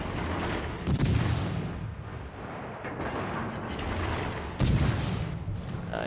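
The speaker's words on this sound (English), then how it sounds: "Let's go ahead and shoot AP" Heavy naval guns on the destroyer Mahan fire armor-piercing shells in a World of Warships-style naval battle game: two loud booming salvos a few seconds apart over a constant low rumble of battle.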